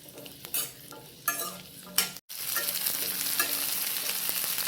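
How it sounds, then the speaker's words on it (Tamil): Onions sautéing in a little oil for mutton thanni kulambu, with a few loud spoon-stirring scrapes early on, then a brief pause before a steady, bright sizzle takes over close up. "கொஞ்சமாக லைட்டாக ஊற்றி வெங்காயத்தை வதக்கினா போதும்."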